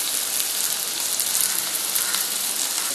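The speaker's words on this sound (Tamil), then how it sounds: "இந்த உருளைக்கிழங்கு வந்து வதங்கி இருக்கட்டும்" Potatoes sautéing in a pan for Tamil-style potato kurma with onion and tomato, giving a steady, dense, close sizzle of frying with no talk.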